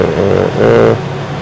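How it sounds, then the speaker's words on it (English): A car engine idles close by, a steady mid-pitched motor drone with a slight swell partway through, alone with no talk. "Engine on, running."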